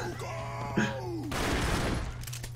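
A burst of rapid gunfire in the side-scrolling game Broforce, a dense crackling volley erupting midway after a brief sliding tone, with a steady low hum underneath.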